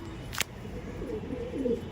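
A Lambati pigeon, an old-generation breed, gives a few low, soft coos toward the end, with a single sharp tap just before and a faint background hiss.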